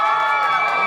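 A crowd of holiday-park guests at Lakeland Haven cheers and yells loudly in a short, sustained burst, close and dense with no pauses.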